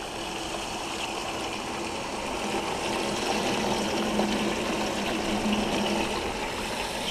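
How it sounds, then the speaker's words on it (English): A recirculating highbanker runs with its sprayers and pump going, producing a steady, dense rush of spraying and flowing water, close and constant, rising slightly partway through, with no voices. "Sprayers are working good."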